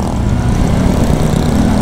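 A Rusi Flash 150 carbureted motorcycle engine revs hard under acceleration on a test ride, giving a steady, loud, low droning roar that holds through the whole stretch with no talk over it.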